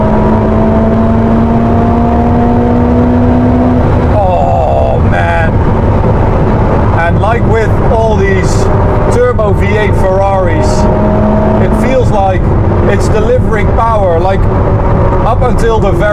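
Ferrari SF90 Stradale engine revving hard under fast acceleration, a loud rising whine climbing through rapid gear shifts, with someone talking excitedly over it.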